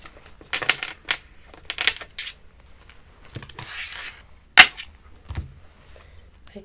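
Tarot cards being shuffled and drawn: crisp papery riffles and slaps come in short bursts, with one sharp snap of a card standing out near the end, fairly close and alone.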